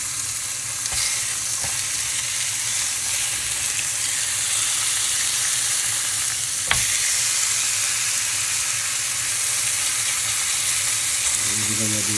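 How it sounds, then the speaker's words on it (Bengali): Beef steak frying in a pan, a loud, dense, continuous sizzle heard up close, broken by a few brief clicks and one sharp knock partway through, with no talking. "এই যে আমরা দিয়ে দিচ্ছি বিফ স্টেক,"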